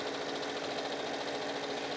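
A sewing machine stitching a fabric pleat for a pillow cover, a continuous close mechanical whir with a rapid even rhythm and no talk.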